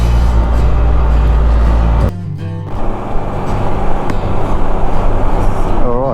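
A Can-Am Spyder three-wheeler towing a 622 trailer pulls away near Bundaberg, its engine droning loudly and steadily up close, with a brief dip as gears shift before the motor and road noise build again.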